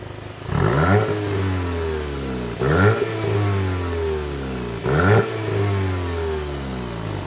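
A Volkswagen Golf TSI engine is revved three times, each blip rising quickly and then falling back to a steady idle between them. The sound is close and loud, with no talking.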